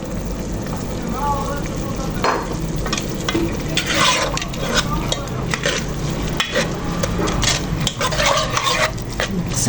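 Constantine-style spicy shakhshoukha cooks on glowing embers with a steady crackling sizzle, broken by scrapes and clinks of a utensil stirring against the pot, with a person speaking briefly.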